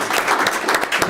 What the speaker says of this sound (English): I'd like to give him a round of applause if anybody would join me